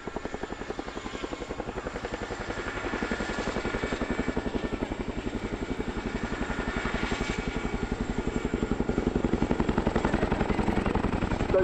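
An RAF Chinook display team helicopter departs backwards at the RIAT 2022 air display, its loud, steady rotor thump beating rapidly and continuously throughout, growing slightly louder toward the end.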